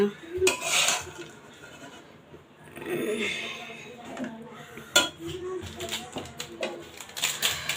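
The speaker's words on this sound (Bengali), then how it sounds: "এগুলো এখন খুব সুন্দর করে আমি নুডলসের মধ্যে মিশে দিব কড়াইটা ছোট হয়েছে খুব সাবধানে মেশাতে হবে" Chicken mince gets stirred into noodles in a small wok, with intermittent scrapes and metallic clinks of a utensil against the pan, close and irregular, alongside a soft voice.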